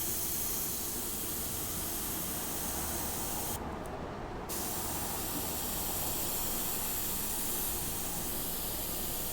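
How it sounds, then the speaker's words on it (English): Airbrush spraying alcohol ink onto flowers, a steady faint hiss of compressed air running continuously with one brief break near the middle. "airbrush"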